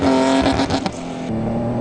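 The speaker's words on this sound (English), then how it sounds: "Some over-revving early on" A single cab Toyota Hilux Class D production rally truck over-revs during the Molopo 250 race, its engine a loud, close, steady roar with rising and falling pitch.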